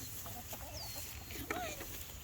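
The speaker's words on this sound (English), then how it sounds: "Look at this beautiful rooster." A rooster clucks and gives short squawking calls close by on a farm, over a steady low outdoor hum.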